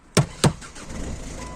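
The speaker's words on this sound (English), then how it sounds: "And there you go, that's how you start the car." A 2008 Ford Focus with an immobilizer fault starting up: two sharp mechanical knocks, then the engine catches and settles into a steady low idle, close by.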